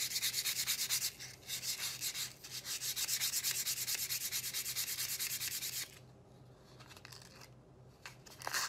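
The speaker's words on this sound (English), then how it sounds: "now I want to hit it with a softer sandpaper" Soft sandpaper rubs along a handmade wooden wand in quick, rhythmic back-and-forth strokes for about six seconds, then continues more lightly and faintly near the end.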